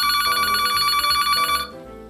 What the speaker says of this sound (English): Had a phone call